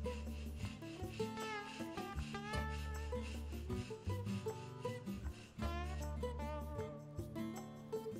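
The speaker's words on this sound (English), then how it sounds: "Since I have the vise at the 90 degree position to the workbench, this filing task is a lot easier." A rasp or file works steadily across wood clamped in a Zyliss vise on a workbench, giving close, rhythmic back-and-forth scraping strokes with no talk.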